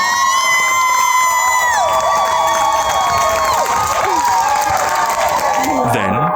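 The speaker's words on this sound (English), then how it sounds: "Thunderous applause as it's announced." A crowd cheers loudly, with whoops and high shouts over applause, as a Jasper County School District Teacher of the Year is announced. The sound is a sustained, boisterous roar with a few sliding yells.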